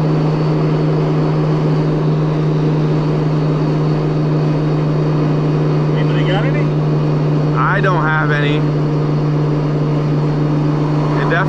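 A 1,100 hp Nissan Skyline R34 engine under throttle, heard from inside the car as a loud, steady, unbroken drone with a few brief chirping whines layered on top.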